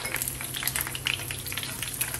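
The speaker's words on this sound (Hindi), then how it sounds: "तड़के में मैं डाल रही हूँ 2 मिर्चें, मैंने लंबी लंबी काट ली हैं।" Two long-cut green chillies sizzle and crackle in hot oil for a tarka, a busy, steady frying hiss with little pops, close by.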